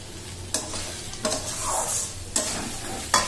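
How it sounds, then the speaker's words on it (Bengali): Spice masala and chicken are stirred in a hot pan, with sharp spoon scrapes at regular intervals over a steady low sizzle. "একটু নেড়ে নেবো।"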